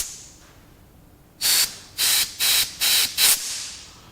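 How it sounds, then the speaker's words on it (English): Five short, loud bursts of compressed air blown through the injector pipes of a Massey Ferguson 135 six-speed tractor, each hissing blast about half a second long with brief gaps, following a quiet lead-in. "I follow it up with an air blast"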